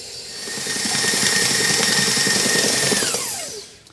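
An electric mixer whirs steadily through gluten-free wedding cake batter, motor droning loud and close, winding up slightly then dropping in pitch as it slows and stops.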